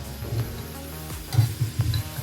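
Paneer samosas frying in oil after the heat was turned off, a steady close sizzle with soft bubbling bursts that swell and fade in short pulses.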